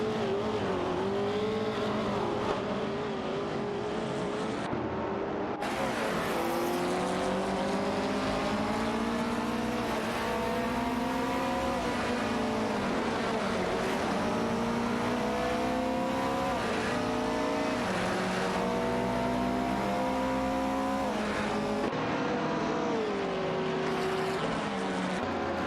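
Race cars in a racing video game roar continuously around the track, engines rising and falling through gear changes in layered, loud, dense revving with no break.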